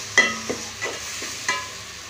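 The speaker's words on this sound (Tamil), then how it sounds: "இஞ்சி பூண்டு சின்ன வெங்காயம் 3 அரைச்ச பேஸ்ட் வந்து போட்டு நல்லா வதக்கிங்க" Ginger, garlic and shallot paste sautéing in a pan, with a few sharp spoon clanks and scrapes against the metal over a soft, quiet sizzle.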